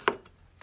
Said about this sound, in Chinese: 然后再把姜片切成丝儿